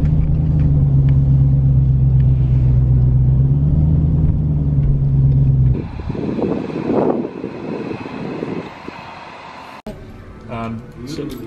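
A Dodge Demon pulls into a CarMax lot, its deep, loud engine rumble droning steadily before dropping abruptly to a lighter, rougher roll, with some voice activity in the later part.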